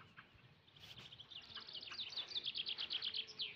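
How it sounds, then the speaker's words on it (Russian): Birds sing outdoors among fir and pine trees in the morning, a rapid series of high, bright chirps that grows denser and louder, layered over a soft background hiss of insects and distant birdsong. "Вот видите, какая песнопение птиц."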